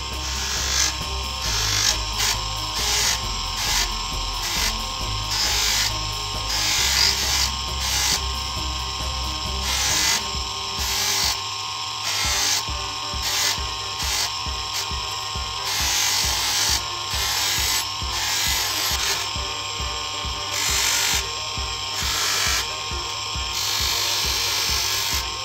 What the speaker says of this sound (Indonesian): besarnya dulu kita poles seperti ini.